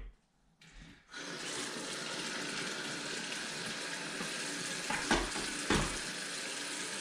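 Water gushes steadily from a tap into a sink, a broad continuous hiss with a few clunks and splashes as things move under the stream.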